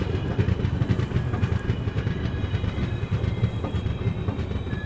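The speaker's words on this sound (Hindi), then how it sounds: "समय से 1 घंटे और 40 मिनट की देरी के साथ ट्रेन अपनी पहुंच चुकी है पेड़ापल्ली रेलवे स्टेशन पे" Andhra Pradesh Express train rolling into Peddapalli railway station, a loud, close rumble of railcars with rhythmic clickety-clack of wheels over rail joints and faint high squeals, steady throughout with no voices.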